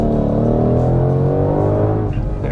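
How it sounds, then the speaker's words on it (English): A 760-horsepower 2020 Ford Mustang Shelby GT500 in grabber green floored at full throttle, a loud close engine roar with rising harmonic pitch as it accelerates, then a brief dip near the end. "So you may be wondering how fast it is when you floor it."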